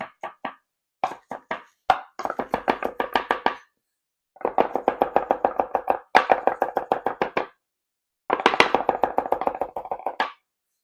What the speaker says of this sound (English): Just going to chop this up. Again, rough chop.